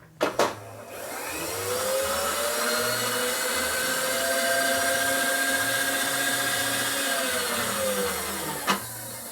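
A chamfer is machined on a 1990s Evo Sportster big-bore motorcycle motor case, a steady high whirring cutter that spins up after a couple of clicks, holds for about eight seconds, then winds down with a final knock.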